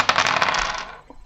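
Several dice are rolled for a HeroQuest board game attack: two white, two black and a twenty-sided die. They rattle and clatter together on a hard surface for about a second, then settle.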